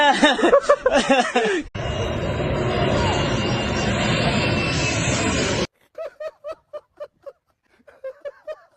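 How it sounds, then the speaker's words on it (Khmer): An airplane drones overhead as a steady, loud broadband roar lasting several seconds, framed by lively chatter and laughter from people before it and quieter voices after it fades. "ទៅមើលយន្តហោះ"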